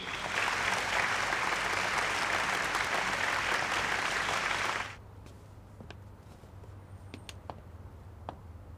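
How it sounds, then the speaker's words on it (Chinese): Audience applause at a jewelry gala swells loudly for about five seconds, a dense wash of clapping, then cuts off abruptly into a quiet room with a few faint ticks and scattered claps. "掌声有请。"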